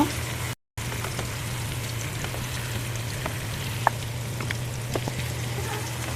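Bottle gourd sizzles in spice paste in a pan, a steady close frying hiss with scattered pops, a brief dropout near the start and a constant low hum beneath.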